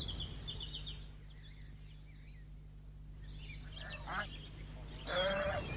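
Geese honk in a few scattered calls over a low steady hum, faint at first and growing louder and closer toward the end.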